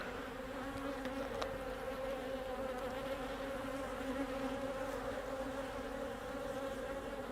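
Honeybees buzz steadily and continuously around an open hive during an inspection, a dense close-up drone of many wings with no talk over it.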